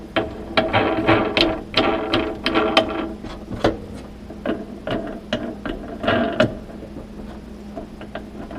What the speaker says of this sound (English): let's go down and start cinching up these bolts